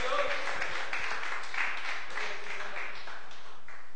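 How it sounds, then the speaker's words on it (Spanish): A church congregation applauding, a dense sustained wash of clapping that runs steadily throughout with a voice carrying over it. "Dele un aplauso al Señor, amén."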